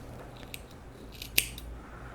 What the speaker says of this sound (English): And then you want to cut down the bottom like this of your tails.